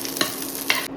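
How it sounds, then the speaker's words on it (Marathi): Garlic and ginger fry in a pan for a Goan-style clam masala curry. A loud, steady sizzle carries two quick stirring scrapes, then cuts off abruptly. "आणि थोडेशे आले ते बी बरे तळशिता."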